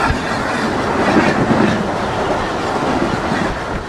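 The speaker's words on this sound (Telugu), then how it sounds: "2 మినిట్స్ హాల్టింగ్ తర్వాత అయితే డిపార్ట్ అయిపోతుందండి మన ట్రైన్ వచ్చేసి ఈ టిరోరా నుండి" The Maharashtra Express pulls away from Tirora station, heard from on board as a loud, steady rumble with rhythmic wheel clatter and faint squeals from the rails.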